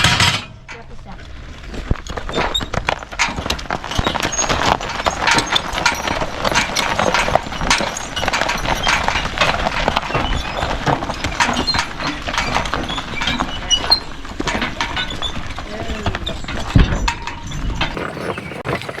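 Draft horses named Earl and Brand walk on a farm on haying day, their hooves clip-clopping steadily and close for the whole stretch amid busy wooden knocks and rattles, with occasional faint talk and a brief whinny-like sound.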